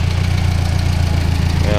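Steady, close engine drone of a tractor pulling an old Ford 515 sickle bar mower through a hay pasture, with a constant low throb and rattling vibration.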